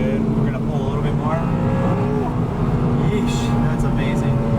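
Toyota Celica GT-S with a six-speed manual accelerating hard, engine revving high and droning steadily from inside the car, loud throughout, with a person talking over it.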